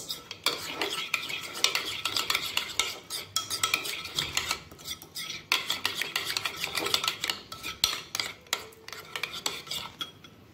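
Vinaigrette being stirred and diluted with a little water, a utensil clinking and scraping rapidly against a bowl in irregular bursts, close and clear with no talking.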